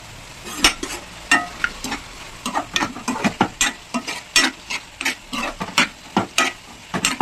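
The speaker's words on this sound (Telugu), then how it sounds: "కాస్తంత సాల్ట్ అడ్జస్ట్ చేసి మూత పెట్టి ఒక 10 నిమిషాలు మీడియం ఫ్లేమ్లో కుక్ చేద్దాం" Snake gourd fry cooks in a pan on a medium flame with a soft sizzle, broken by a steady run of sharp spatula clinks and scrapes against the metal. The sounds come close up, with no talking.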